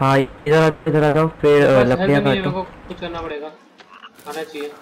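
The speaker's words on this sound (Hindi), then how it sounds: "मेंढक बोल रहा है" Frog croaking in the survival video game The Forest, a few soft croaks toward the end of the clip, heard under loud, close conversation that fills most of it.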